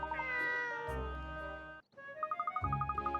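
A cartoon cat meows in the video game Layton's Mystery Journey, a few short mews over bright game music with twinkling chimes, with a brief gap of silence partway through.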